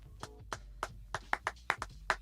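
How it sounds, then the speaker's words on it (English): A few people clapping hands in a sparse, uneven rhythm, about ten sharp separate claps up close in a quiet room, with no talk. "As long as everyone's clapping, you clap."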